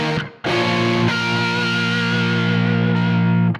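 Heavily distorted electric guitar rings out a riff progression: a short stab, a brief cut, then sustained overdriven chords changing once and holding loud to the end, with no voice.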